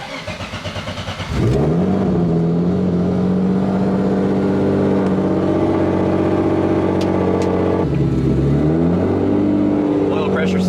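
A Turbo Z car's engine fires up and settles into a loud, steady drone from inside the cabin while driving, with a shift in pitch partway through as it changes speed.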